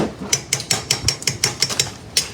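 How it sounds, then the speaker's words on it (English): Food is stirred in a pot while cooking dinner: a quick series of close scraping and clinking strikes of a utensil against the cookware, in an irregular rhythm. "this how I do it. Just stir everything around."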